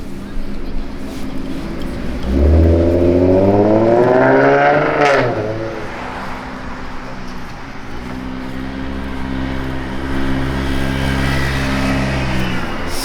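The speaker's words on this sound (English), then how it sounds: "Sorry for the car noises." A car passes close on a street with a loud rising-then-falling engine roar, followed by another vehicle's steady engine hum; a voice is heard along the roadside.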